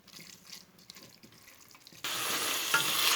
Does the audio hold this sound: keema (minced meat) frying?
yes